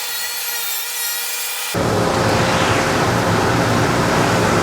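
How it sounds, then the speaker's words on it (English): A hole saw bores into wood with a steady whine, then a table saw cuts in loudly with broad, rushing noise that continues to the end. No voices. "we're going to use a hole saw in the ends, and then we'll connect the 2 holes with the table saw"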